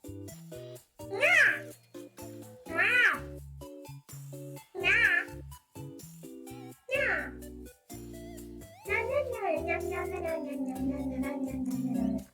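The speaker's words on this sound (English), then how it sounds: "Unexpected young cat." A young cat gives a series of short, evenly spaced meows, about four distinct calls in a row, followed by a longer drawn-out vocalization, loud and close.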